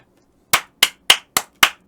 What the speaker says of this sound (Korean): 빨리 박수, 빨리 박수